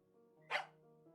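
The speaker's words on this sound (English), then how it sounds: "The dog reminded us of its existence with a loud bark." A single loud dog bark in the video game Tiny Bunny rings out sharply over a low steady background hum, brief and close.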